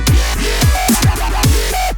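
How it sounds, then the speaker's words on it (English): A remix drop built in Ableton has a horn section layered over it, loud and dense, driven by punchy regular kick drums with sustained brassy tones riding above. "And then I add that horn section."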